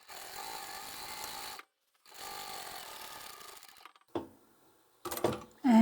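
Sewing machine top stitching the folded sides of a lined fabric shopping tote, running in two long steady bursts separated by a pause, then short stop-start stitches near the end, close and alone.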